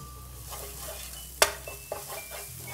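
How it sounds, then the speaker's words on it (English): Ginger and garlic paste frying in a pan for shakshuka, a steady close sizzle broken by a sharp utensil clack against the pan and a couple of softer stirring scrapes, with no voices. "We're only cooking out the paste until you can like smell it in the air, which is about 20 to 30 seconds."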